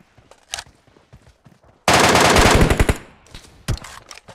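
A loud, rapid burst of automatic gunfire in PUBG Mobile lasting about a second, preceded and followed by scattered sharper shots and faint clicks.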